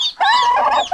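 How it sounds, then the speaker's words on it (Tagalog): Newly hatched turkey chicks on a farm peep loudly and close, in a few shrill, rising calls with brief gaps between them. "Maraming siso ng pabo mga kaprobinsya, oh."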